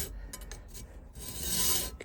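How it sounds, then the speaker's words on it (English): Coarse metal file rasping through a hole cut in a steam tram floor, steady back-and-forth strokes close up, growing louder and denser toward the end. "You can hear by the sound this is a fairly rough file, but at least it's moving quite a lot of material straight away."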